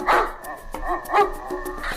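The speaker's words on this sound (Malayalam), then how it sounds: "ഓ പട്ടി, എന്തിനാ എന്നെ കടിക്കാൻ വരുന്നേ?" A dog barks several times in sharp, close bursts with yips between them, loud and agitated.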